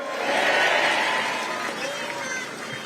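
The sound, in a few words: audience applause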